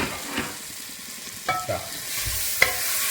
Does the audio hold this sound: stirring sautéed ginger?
yes